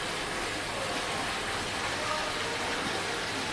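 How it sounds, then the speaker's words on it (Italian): Steady, dense rushing of a waterfall fills the clip at an even level, a broad continuous roar with no breaks and no voices. "Questa cascata ha un rumore molto sereno, il rumore dell'acqua fa sempre piacere."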